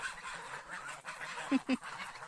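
Molting geese honk faintly in the distance, two louder honks standing out near the end over a soft outdoor background.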